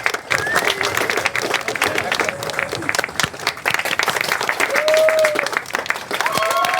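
Lively applause from a crowd, dense clapping throughout, with cheers and voices mixed in.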